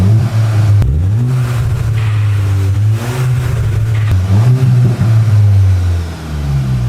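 Tuned Mk8 VW Golf GTI, around 300 brake horsepower with overrun activated, revs up loudly and close several times, each rise and fall of the engine note ending in sharp overrun pops.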